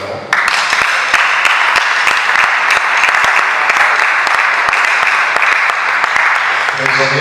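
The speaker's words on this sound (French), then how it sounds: "nous l'acclamons." Loud, sustained applause from a crowd at a political party gathering, greeting the party's national treasurer, steady clapping filling the room for several seconds.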